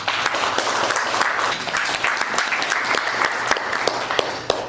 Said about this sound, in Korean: 박수로 위로 모시겠습니다